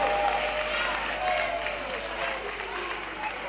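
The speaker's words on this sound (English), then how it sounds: "Let's give our candidates a round of applause." Crowd applause for candidates at a 2012 presidential debate in Tamale, a steady, dense wash of many hands clapping throughout, fairly far and diffuse, with faint voices mixed in.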